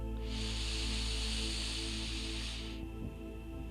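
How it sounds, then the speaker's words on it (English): A slow, deep inhale through the nose during a guided breathing exercise, a soft steady airy hiss of about two and a half seconds over a constant low hum. "Breathing in through the nose from the toes, breathing in."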